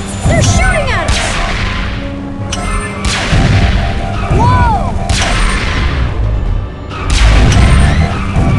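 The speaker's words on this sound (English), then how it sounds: "They're shooting at us!" Cartoon gunfire and blasts rain down on the Rescue Bots, loud booming shots landing in repeated bursts with crashing impacts, laser-like whines and shouted voices between them.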